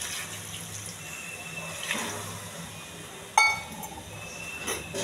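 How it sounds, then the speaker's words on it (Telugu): A glass of water poured into a cooking pot of spiced eggplant and potato with chili, turmeric, mint and coriander: a soft, faint splash followed by a brief glassy clink, nearby and quiet. "ఒక గ్లాసు వాటర్ అండి"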